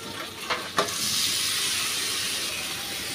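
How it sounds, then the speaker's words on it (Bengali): Gourd skin and sliced potato frying in a pan give a steady, loud sizzle and hiss, with a couple of brief stirring scrapes near the start. "যতক্ষণ এটা লাউ আর আলু ভাজি না হয় ততক্ষণ পর্যন্ত আমি নেড়ে নেড়ে এটা ভাজি করে নেব"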